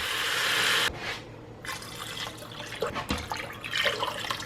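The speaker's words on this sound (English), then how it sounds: "I'm gonna add 8 cups of water." Water poured from a container into an Instant Pot over pork, a loud gushing splash at first that breaks off and then carries on as lighter, irregular trickling and sloshing.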